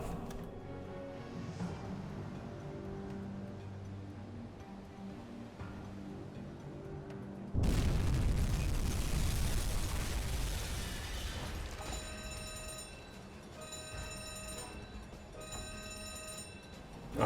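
A torpedo strikes an Empire cargo ship in the submarine game UBOAT, setting off a loud, sudden explosion that rumbles on for several seconds before fading into a steady bed of mechanical ticking and tones.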